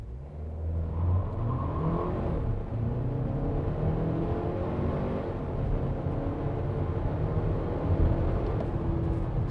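A 2022 Haval H6 SUV accelerates hard from a standstill with traction control off, its engine note rising steadily through the rev range at moderate distance, with a brief dip around a gear change, and no talking.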